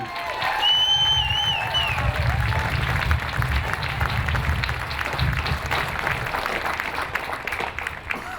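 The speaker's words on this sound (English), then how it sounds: "A round of applause, please." A crowd lining a Veterans Day parade route in Leavenworth County applauds steadily and loudly for several seconds, with scattered cheers and whistles mixed into the dense clapping.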